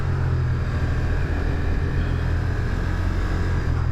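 A 2025 Ducati XDiavel V4 cruiser at highway speed, with a dense, steady low engine drone mixed with wind roar, loud and unbroken throughout.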